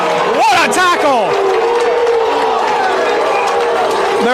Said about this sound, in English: And the crowd chanting Luke as he makes the tackle of a lifetime.